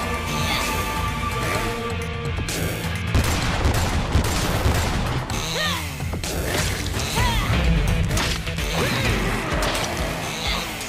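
Gunfire during the final boss fight of the game Lollipop Chainsaw RePop, packed into a dense, chaotic stretch of crashes, rattling shots and clanking mechanical noise, loud and close throughout.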